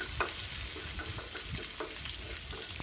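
Shallots sauté in oil until browning for a salna, with a dense, steady hiss of frying and faint stirring scrapes underneath.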